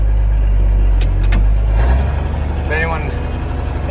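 A Panther 1000 engine runs in an open field on a test run after a new micro switch is fitted: a loud, steady low rumble that shifts partway through, with a brief voice over it.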